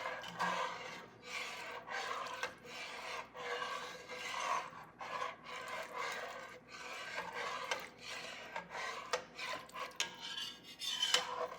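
A utensil scrapes the bottom of a Le Creuset Dutch oven holding pot roast liquid, giving repeated rough rasping strokes in an irregular rhythm, close and fairly quiet, with no talking.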